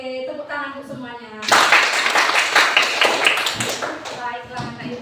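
A classroom of children clapping together, a loud dense burst of applause lasting a few seconds, with a teacher's voice heard before and after.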